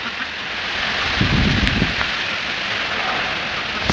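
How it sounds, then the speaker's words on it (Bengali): A Kalbaishakhi thunderstorm rages with a dense, loud roar of heavy rain and gusting wind, while a low rumble of thunder swells briefly midway. "কিরকম তুফান ছেড়ে দিচ্ছে"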